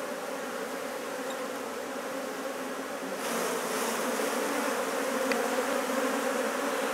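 Honeybees swarm over a hive frame in a dense, continuous buzz, close and steady, growing slightly louder partway through, with no voices.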